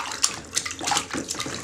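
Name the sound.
child splashing water in bathtub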